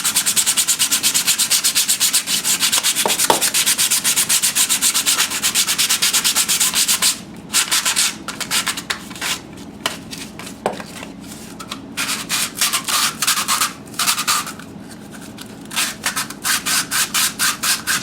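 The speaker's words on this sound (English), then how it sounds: "Now what I'm going to do now is get a piece of sandpaper" Medium-grit sandpaper rubs glue residue off a sprinkler filter screen in steady, rapid back-and-forth strokes, close and loud, continuous at first and then broken into shorter bursts with brief pauses.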